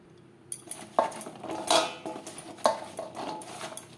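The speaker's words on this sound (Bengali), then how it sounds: "লবণ হলুদ ও বেসন দিয়ে ভেন্ডি বেশ ভালো করে মেখে নেবেন" Okra being mixed by hand with salt, turmeric and gram flour in a metal bowl, giving soft scattered clinks and scrapes against the dish at an irregular pace, close and fairly quiet.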